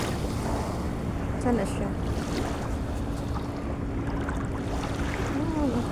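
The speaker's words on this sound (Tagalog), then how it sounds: "Kusog ang balod." Strong ocean waves wash in a steady, broadband roar along a shoreline with crabs, mixed with wind noise against the microphone, while a person briefly speaks over it.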